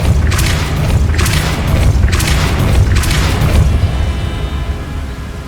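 Depulso spell cast in the video game Hogwarts Legacy: four heavy booming blasts in quick succession over loud, steady game ambience, which then settles into a low rumble.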